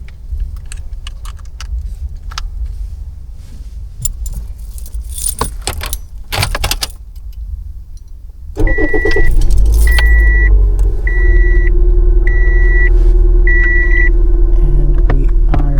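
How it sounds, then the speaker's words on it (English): A car's engine cranks and catches after a stretch of keys jangling and handling noise, then settles into a steady, loud idle with a repeating electronic chime over the rumble. "I'm just gonna start up my car to make sure it's actually working"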